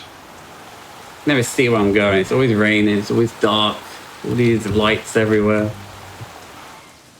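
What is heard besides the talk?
rain in the video game Sleeping Dogs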